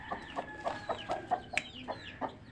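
A rooster clucks in a run of short, repeated calls at a steady rhythm, fairly close, with a faint high tone held underneath.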